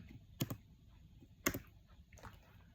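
Typing on a computer keyboard while entering input into a simple restaurant program, a few quiet, separate clicks of keys in a near-silent room, spaced roughly a second apart.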